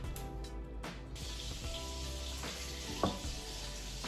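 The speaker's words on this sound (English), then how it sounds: "I'm just gonna pop that in the pan." Tofu sizzling steadily in a hot pan, a continuous close crackling hiss with small pops and one sharper clack partway through, no talking.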